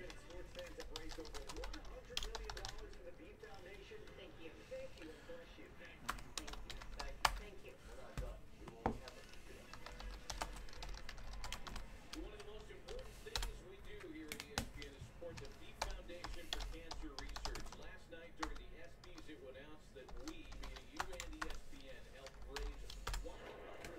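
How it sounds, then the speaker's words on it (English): Soft, irregular keyboard tapping on a computer continues throughout, faint and mixed under someone talking. "I have to type over the camera."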